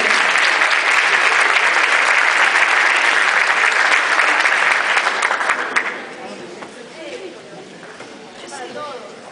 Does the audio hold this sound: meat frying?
no